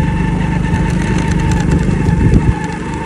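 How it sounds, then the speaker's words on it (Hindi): Motorcycle engine running close by on a dusty dirt road, a loud steady mid-pitched drone with a slight swell before dropping off near the end. "देखो मोटरसाइकिल वो सारी मट्टी उड़ा के जा रहा है।"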